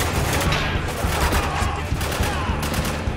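Dense, sustained gunfire fills a combat firefight in the video game Spec Ops: The Line, loud overlapping shots and bursts without pause.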